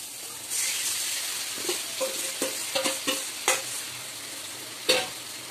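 Onion and tomato fry in a pan with a soft continuous sizzle while a spoon stirs and scrapes in a run of short knocks, ending with one sharper clack.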